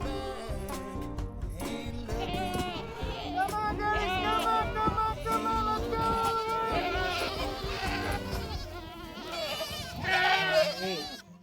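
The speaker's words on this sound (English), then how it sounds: "And you have goats, sheep, and cattle." Goats and sheep on a Texas ranch bleat over and over in a noisy, overlapping chorus, close and loud, with people's voices and babble mixed in underneath.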